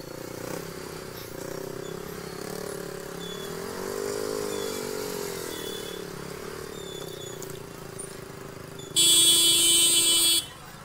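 Motorcycle fitted with an Akrapovic exhaust, played back from a video, holding a steady droning engine tone that rises and falls midway, then ends in a short loud horn-like blast near the end.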